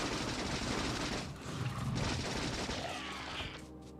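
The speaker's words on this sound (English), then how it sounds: "Let's maybe switch it over to the machine gun." A machine gun in the Factorio video game fires in a dense, continuous rattling stream of rapid shots, loud and close, with booming impacts layered over a busy game soundscape and no speech.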